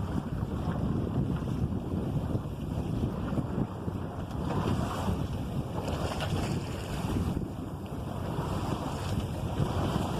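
Steady wind rushes over a sailboat under way in Nantucket Sound, a continuous broadband roar from microphone buffeting mixed with water wash against the hull, holding constant throughout.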